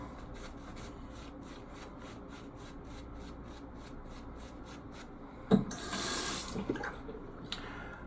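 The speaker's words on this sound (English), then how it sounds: "And then let's start to add water." Water is worked into Planet Java Hive shaving soap lather with a Rex Ambassador shaving setup, giving steady wet rubbing and rasping strokes with a brief louder splash and drip near the end, close and alone.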